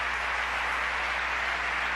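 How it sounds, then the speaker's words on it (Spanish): A church congregation at a Sunday service applauds, an even, distant wash of clapping over a low steady hum from the room's sound system. "¿Cuántos le aplauden fuertemente al Señor?"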